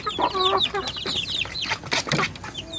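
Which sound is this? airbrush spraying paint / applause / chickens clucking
chickens clucking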